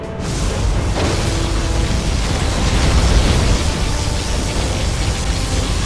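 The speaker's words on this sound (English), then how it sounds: "particle cannon has been activated." Particle cannon blast in a real-time strategy game, a long roaring explosion that hits sharply and then sustains as a dense, loud rumbling wash for several seconds.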